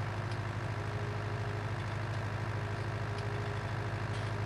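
A tractor engine in Farming Simulator 2019 drones steadily while driving, a continuous low, heavy rumble with no breaks or voices over it.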